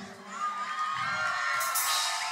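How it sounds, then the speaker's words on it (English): Audience cheering and shouting at a live fusion band show, a dense crowd roar with whoops that swells toward the end, loud and continuous throughout. "Can I get a round of applause"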